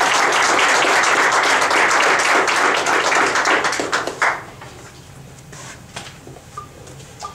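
Lecture-hall audience applauding to welcome lecturer Hasan Jeffries, with dense clapping for about four seconds before it tapers off into a few scattered claps and room quiet.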